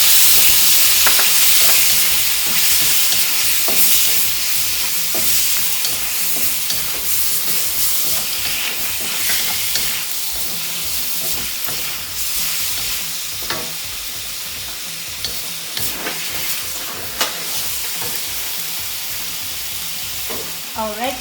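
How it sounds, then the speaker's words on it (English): Shrimp frying in oil for Phad Thai with tofu, a loud, steady broadband sizzle with frequent scraping and stirring clatter throughout, no voices. "I'm going to add some more oil. And get my shrimps cooking there."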